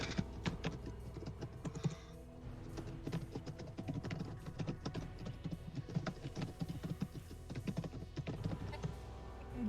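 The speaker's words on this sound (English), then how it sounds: "I can hear you're typing." Continuous tapping on a computer keyboard, fairly faint and steady, with irregular clicks throughout and no voices.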